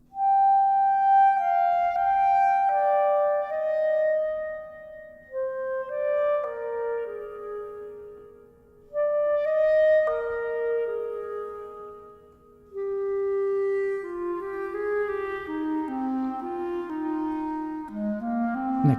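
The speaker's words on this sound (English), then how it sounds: "And this one is the clarinet" A lone clarinet plays a slow, singing melody in separate phrases, each note swelling and ringing off into a soft, roomy reverb.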